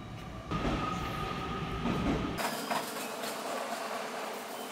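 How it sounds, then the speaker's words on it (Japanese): A JR train running into Minami-Kokura station on the Nippo Main Line, a loud rumbling roar of wheels and cars close by that shifts to a thinner rolling rush as it passes. "小倉方面の電車が来たのか。"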